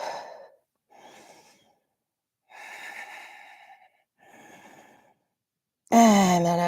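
Slow, deep breaths during yoga practice: four soft, unhurried inhales and exhales separated by quiet pauses, close and alone, ending in a louder voiced sigh.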